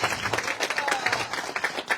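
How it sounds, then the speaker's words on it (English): An audience claps at a home dedication ceremony, steady moderately loud applause from a small crowd with a little voice mixed in. "as you're clapping for the family"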